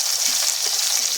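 Eggplant sizzles and crackles in hot oil in a home kitchen, a steady bright frying hiss throughout with no voices.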